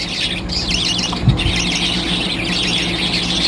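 A pet bird squawks in a dense flurry of high, rasping calls that run continuously, close and loud, with a faint low knock midway.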